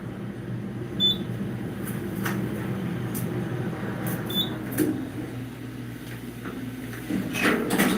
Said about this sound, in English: Hear that original motor generator, classic levels.